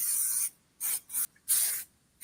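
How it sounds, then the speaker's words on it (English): Vegetable cooking oil is sprayed onto a baking pan in a home kitchen, four short close hissing bursts separated by brief silences. "I was going to do this without showing you, but I'm going to spray one pan."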